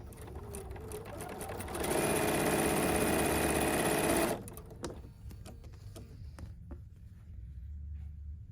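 A sewing machine chain-pieces quilt blocks, running a steady, loud stitching burst for a couple of seconds before stopping, followed by quieter handling noises and clicks.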